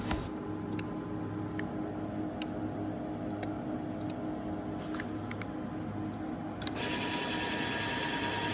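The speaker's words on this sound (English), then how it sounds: "Now you can hear the relays working." Relays on the control board of a Vostok V2 electric scooter click in sparse, sharp ticks over a steady electrical hum, close and fairly quiet, with a louder shift in the hum near the end.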